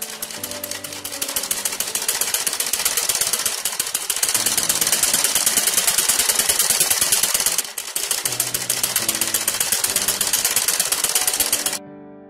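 Sewing machine stitching a waistband onto a circular palazzo skirt, a fast steady mechanical chatter running continuously with a brief pause near the middle and stopping just before the end.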